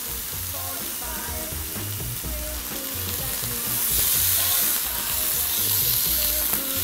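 Horse meat roast searing in a hot pan, a steady close sizzle and crackle that holds without a break and swells louder partway through, with no talking.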